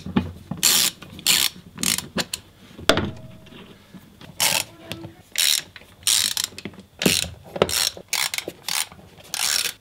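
A ratchet with a long 10 mm socket works on a SsangYong Rodius Rexton Xdi270 diesel engine, giving bursts of rapid clicking, about a dozen short runs close by with brief pauses between them.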